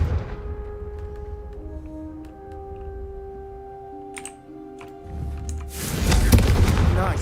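The Confringo fire spell is cast in Hogwarts Legacy: a few sharp clicks over sustained game music, then a loud, dense whooshing burst of fire that swells near the end.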